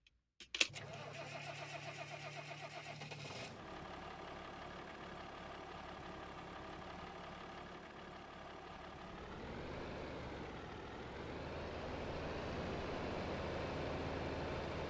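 In the Farm Sim video game, a farm vehicle's engine cranks briefly, catches and settles into a steady idle, then the revs gradually rise as it pulls away. The engine is heard alone at moderate loudness.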